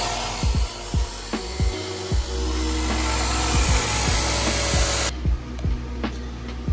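A shortened tie rod for a Tacoma drift knuckle setup being trimmed with a power tool, a continuous loud grinding whine with repeated low knocks and bumps, the tone shifting about two-thirds of the way through.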